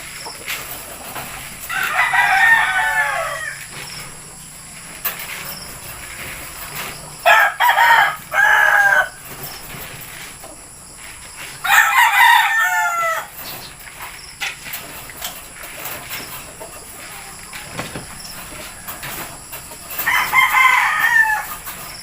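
Young roosters (stags) on a small farm crow in several separate bouts, four clear calls spaced over about twenty seconds, fairly near and loud against a quiet farmyard background.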